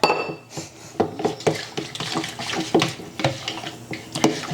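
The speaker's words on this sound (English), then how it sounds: "adding some of this to my leftover yogurt and mixing this up" Yogurt is stirred in a bowl with a spoon, giving a run of close, irregular clinks and scrapes of utensil against the dish, some quick and bunched, with no voice over it.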